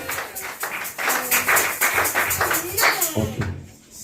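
A church congregation claps in a quick, even rhythm during a lively praise service, the sharp hand claps mixed with voices calling out and singing throughout.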